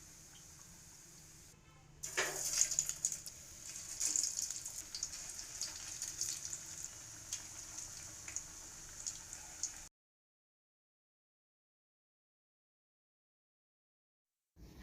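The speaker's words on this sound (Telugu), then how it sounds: "వీటిని మీడియం ఫ్లేమ్లో పెట్టుకుని మంచి క్రిస్పీగా వచ్చేంత వరకు వేయించుకోవాలి." Bread masala vadas deep-frying in oil over a medium flame, giving a steady bubbling hiss with faint crackles for several seconds before the sound cuts to silence.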